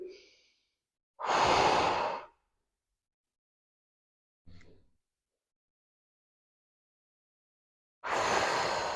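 Deep breaths during a postpartum pelvic floor exercise: a short exhale, then a long, loud, close breath out, a faint brief breath, and another strong exhale at the end, separated by silence.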